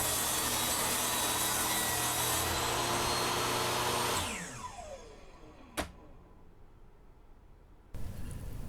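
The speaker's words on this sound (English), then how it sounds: "After each cut, I have to reset the saw exactly a half an inch wider than the previous cut." A power saw cuts through a wooden workpiece for a trawler bow sprit, a loud sustained buzzing cut that winds down with a falling pitch, followed by a sharp knock and quiet before the saw starts again.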